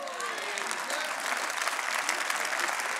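Applause from a church audience during a sermon by a pastor, a dense, steady wash of many clapping hands that holds loud and continuous from start to finish with no talk over it.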